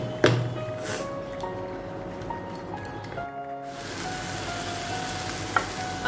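Dough fries in hot oil for a chicken cheese burst snack, giving a continuous close sizzle with a brief pause midway and a few scattered clicks.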